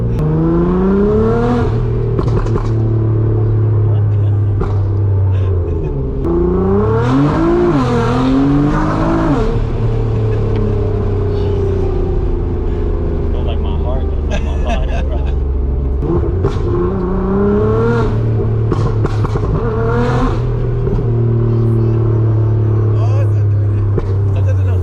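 Nissan 350Z engine revving hard while driving, a loud continuous drone with repeated rising and falling revs and brief tire squeal, people talking over it inside the car.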